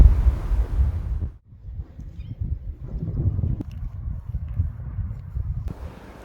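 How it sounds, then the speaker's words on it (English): Strong wind buffets the microphone outdoors on a hot evening bear hunt, a loud low rumble in gusts that drops briefly to near quiet and then returns. "It's the crazy wind that's cooling him down."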